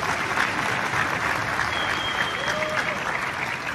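A crowded summit hall fills with loud, sustained applause, a continuous thick clatter of many hands with faint whistles rising briefly above it.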